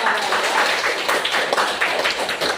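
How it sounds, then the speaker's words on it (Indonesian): A class of schoolchildren in an Indonesian classroom claps together after group presentations, a dense, brisk patter of many small hands at moderate loudness, with faint voices underneath. "Tepuk tangan semuanya."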